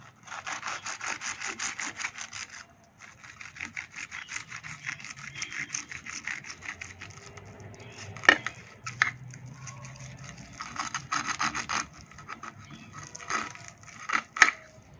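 A knife saws through a breaded rolled cutlet stuffed with vegetables, giving repeated quiet rasping, crunchy strokes close by, with a few sharper clicks of the blade near the end.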